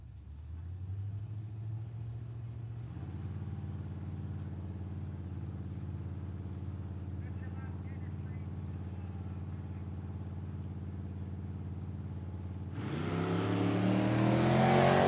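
Drag racing cars at Tucson Dragway during a Cactus Clash event roar steadily at a launch, engines droning loud and sustained before a sharper, louder surge of revving near the end.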